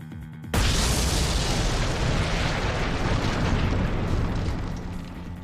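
A bomb explosion in the video game Ace Attorney: Dual Destinies erupts suddenly after a brief lead-in, a loud sustained boom and rumble that fills several seconds before slowly tapering off.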